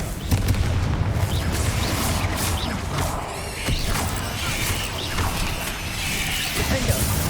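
Confringo fire-blasting spells explode in Hogwarts Legacy combat. Repeated booming bursts and crashes layer over a rumbling battle bed, with sharp impacts scattered throughout.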